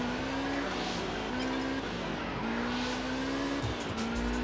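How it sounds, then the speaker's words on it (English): A car engine in Test Drive Unlimited holds a steady high drone while drifting, with tire squeal and shifting revs layered throughout, close and continuous. "If I can get this car to drift, it will drift around here."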